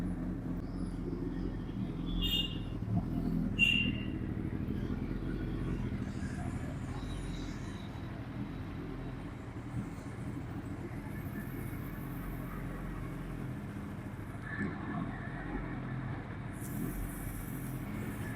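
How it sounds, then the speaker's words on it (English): A car engine idles steadily after a nighttime start in warm weather, a low continuous rumble held at an even level throughout, with a few faint higher clicks and ticks early on. "We have started our vehicle at 9"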